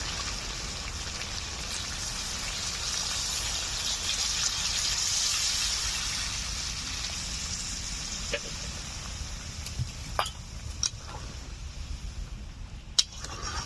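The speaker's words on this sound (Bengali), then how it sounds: "এখন দিয়ে দেবো পরিমাণ মতো জল।" Water poured into a pan of browned chicken curry with gondhoraj lemon leaves: a steady rushing pour that settles into a hissing simmer, with a few sharp clicks near the end.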